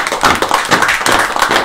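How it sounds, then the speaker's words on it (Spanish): A short burst of dense, steady clapping from a group, loud and close, with no voices over it. "un aplauso para todos ustedes"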